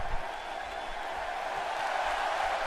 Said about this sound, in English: The crowd very excited, looking forward to this matchup.